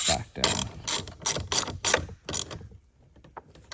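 A ratchet tightens the winch power cable terminal on a truck battery. There is a quick series of about eight sharp, close clicking pulls, then a few fainter ticks as it stops.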